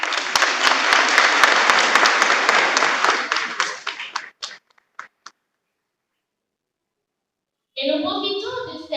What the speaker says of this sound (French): nous applaudissements s'il vous plaît.